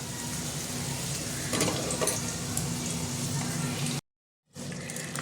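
Spice paste for Bengali-style stuffed chhana dalna sautéing in oil in a pan, a steady close sizzle with a few stirring scrapes, cutting to silence briefly near the end.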